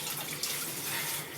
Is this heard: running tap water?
yes